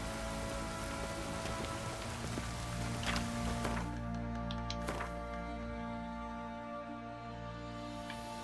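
Steady rain falls in The Witcher 3, a dense, even hiss of drops striking surfaces that runs unbroken throughout, with faint game ambience beneath and a few brief sharper patters.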